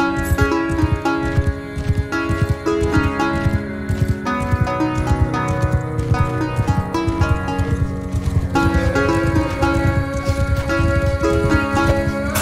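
An armored horse's hoofbeats clip-clop steadily under layered game music in Mount & Blade II: Bannerlord siege play, the galloping continuing throughout at an even pace.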